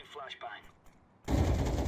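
Gunfire from Counter-Strike during a ranked match erupts suddenly as a loud, dense burst of shots after a quiet moment with faint in-game sounds.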